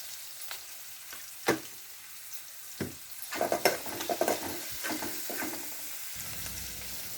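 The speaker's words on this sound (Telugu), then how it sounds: "కంద ముక్కలు వేస్తున్నా. ఉల్లిపాయలు వేగినవి" Yam pieces frying with onions in hot oil, a steady close sizzle punctuated by scraping stirs and a cluster of crackling pops midway, continuing without any speech.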